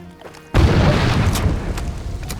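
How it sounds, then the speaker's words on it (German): A mortar shell bursts in the shooter game Far Cry 2 with a sudden, loud, deep boom that rumbles on heavily afterward. "Ein Mörser."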